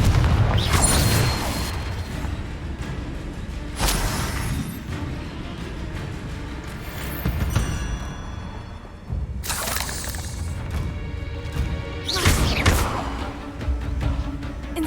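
Confringo fire-spell blasts in Hogwarts Legacy combat, several loud shattering explosions spaced a few seconds apart, each bursting sharply then trailing off amid ongoing battle noise.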